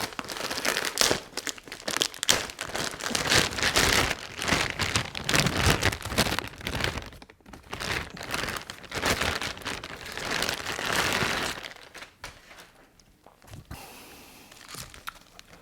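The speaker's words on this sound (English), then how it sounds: "let's do the mains transformer. Unwrap it." Packaging being unwrapped from a tube amp mains transformer during a kit build, giving continuous loud crinkling and rustling close up that eases off near the end.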